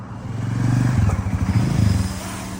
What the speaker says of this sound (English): revs the engine a few times, and rips off down this dirt road